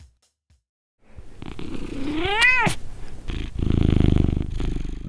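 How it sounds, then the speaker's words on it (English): A domestic cat gives one rising meow, then settles into a low, rumbling purr, close and clear after a brief silence. "The bike cat purrs."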